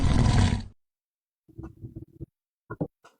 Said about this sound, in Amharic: እያጓራ ነው ማለት አንተ አንበሳ ነህ።